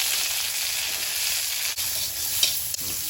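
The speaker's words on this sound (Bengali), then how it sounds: "এবার ডাঁটাগুলো দিয়ে দেবো" Taro stolon stems hitting hot oil in a wok hiss with a dense, even sizzle, close and loud, with a couple of faint ticks from the pan.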